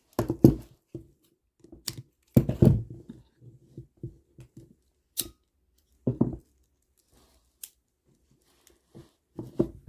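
Scissors snipping through kandi cord close by, a series of short sharp cuts in uneven bursts with quiet gaps, part of making a kandi heart.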